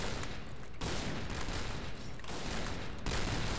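In the Point Blank shooter, gunfire crackles in dense, continuous bursts with brief gaps between volleys, loud and close throughout, with no voices.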